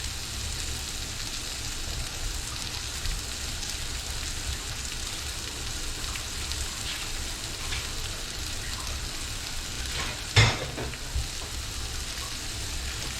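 Onions seasoned with fajita spice fry in a pan with a steady, dense crackling sizzle throughout, close and even, broken once by a brief louder clank.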